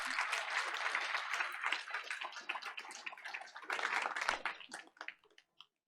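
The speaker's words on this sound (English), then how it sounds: "Let's give them a round of applause." Applause from the audience at a school board of education meeting honoring award-winning high school students, a dense clatter of clapping that thins out and fades to silence near the end.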